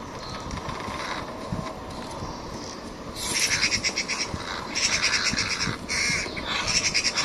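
Crows in Dishonored: Death of the Outsider burst into loud, repeated harsh caws after cages are touched, several rapid croaking bursts close by over a busy town's steady background hum.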